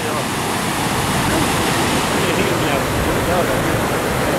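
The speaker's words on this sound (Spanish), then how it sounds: "las consecuencias de la tormenta, el desborde del arroyo San Lorenzo" Rushing floodwater of the San Lorenzo stream overflowing after a storm, a loud, steady broadband roar that fills the whole stretch without letup.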